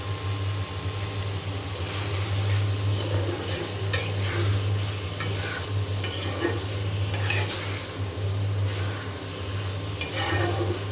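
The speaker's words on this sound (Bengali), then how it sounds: "মশলা কষিয়ে নেওয়া হয়ে গিয়েছে, আমি একটু চাল কুমড়ো দিয়ে দিলাম।" Ash gourd pieces stirred into spice masala in a hot pan give a steady sizzle with occasional scraping strokes of the spatula, close and continuous with no talking.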